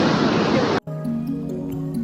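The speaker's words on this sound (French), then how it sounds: "Désolé pour le bruit, mais les vagues étaient déchaînées." Rough waves crash in a small cove near Palma, Majorca, a loud dense roar of surf that cuts off abruptly, followed by quiet talking.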